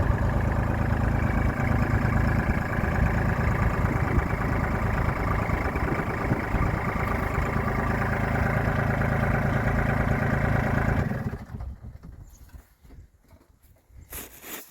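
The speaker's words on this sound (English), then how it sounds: "The L2501, when you hear it starting, is a much bigger, throatier engine with a lot more torque than the B2601." A Kubota L2501 tractor's diesel engine idles with a loud, steady, throaty rumble at close range, then drops away sharply near the end, leaving quieter background sounds.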